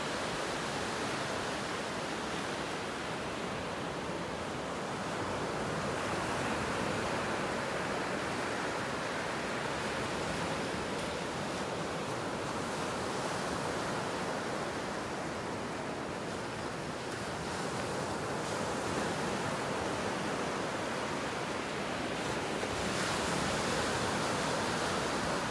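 Small waves wash continuously onto a beach in North Naples, Florida, a broad steady roar of surf and water hiss with slight swells in loudness, heard alone without talk.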